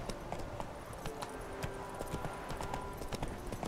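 Roach the horse gallops in Witcher 3, her hooves drumming out a quick, steady clip-clop under soft game ambience, with no voices over it.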